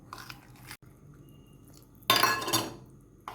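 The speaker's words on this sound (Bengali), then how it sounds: "দিয়ে ভালো করে মাখিয়ে নেব।" A spoon mixes a thin semolina batter in a bowl, giving soft wet stirring broken by a short burst of scraping clinks against the bowl, close and without talk.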